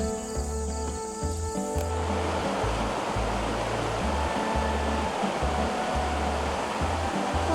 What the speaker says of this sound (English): It's really pretty here by the Pine River